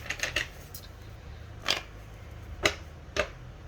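Sharp, brief card snaps and riffles sound close up, a quick flurry at first and then a few isolated flicks over a quiet background.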